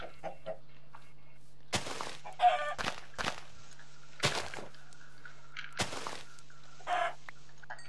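A Minecraft chicken clucks in scattered short bursts, about six over several seconds, irregularly spaced and moderately close, with no talk and a faint steady hum underneath.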